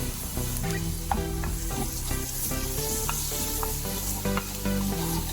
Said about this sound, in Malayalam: ഉള്ളി നന്നായിട്ട് വഴറ്റിയെടുക്കാം